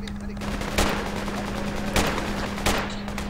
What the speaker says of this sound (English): They're firing at us from north.